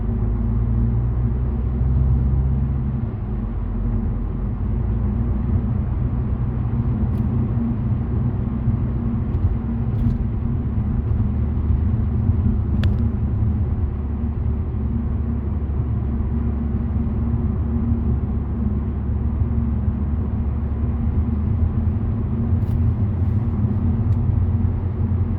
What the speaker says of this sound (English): this is just a drive along or a ride along, so you could hear what it sounds like on the interior.